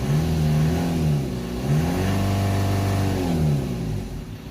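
A Ford Transit 2.2 diesel engine with an underboost fault revs up and down repeatedly nearby, rising and falling in pitch in several smooth swells over a steady running drone.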